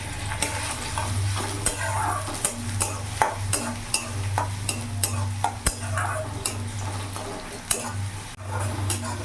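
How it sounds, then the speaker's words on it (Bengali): Finely chopped onion fries in a pan for an eggplant bhuna, a steady close sizzle broken by repeated clinks and scrapes of a spoon stirring against the metal, with no talking. "এরই মধ্যে কুচি কুচি করে পেঁয়াজ কুচো দিয়ে দিলাম।"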